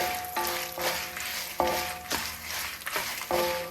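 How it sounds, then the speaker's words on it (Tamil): Dried red chillies roast in a hot pan for a Tamil pirandai thogayal, giving a steady close sizzle with repeated sharp scraping strokes of a spoon against the pan roughly every half second. "மிளகா வத்தல் போடுறேன்."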